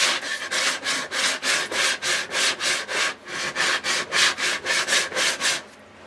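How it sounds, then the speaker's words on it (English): Hand sanding with 120 grit paper along the wooden edges of a homemade guitar body: about fourteen rhythmic back-and-forth rasping strokes, close and fairly loud, with no talking. "some 120 grit paper on it, and I want to do the edges around here"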